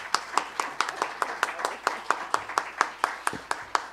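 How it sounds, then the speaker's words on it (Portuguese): A lecture audience welcomes a professor to a talk on Nísia Floresta with slow, rhythmic clapping, about one sharp clap every quarter second, fairly close and steady, with faint voices underneath. "Eu queria só pedir a todos aplausos de boas-vindas"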